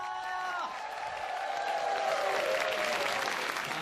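A large crowd applauds and cheers at the final of a domestic League of Legends championship in Akihabara, Tokyo, a steady roar of clapping rising slightly in the middle and holding at moderate volume.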